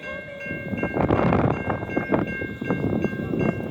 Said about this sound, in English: Now we're going to get a real close view of this train.